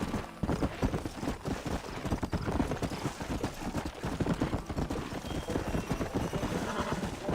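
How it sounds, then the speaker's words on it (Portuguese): Hooves of a wild horse in the video game Red Dead Redemption clatter in a rapid, continuous galloping clip-clop, close and prominent, with a voice talking faintly underneath. "Esse cavalão selvagem aí,"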